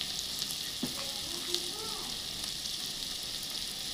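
Crab curry frying with chilli powder in a pan, a steady, fairly quiet sizzle that holds evenly throughout, with faint stirring ticks over the top.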